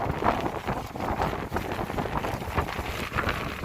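Gusty wind under an air-conditioning unit rumbling against the microphone, a constant blustery noise that swells and dips with no talking.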